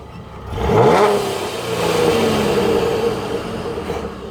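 A V6 car with a Borla exhaust, supercharger and performance coil packs revs up loudly, the engine note climbing then holding a strong, steady roar close by with no talking.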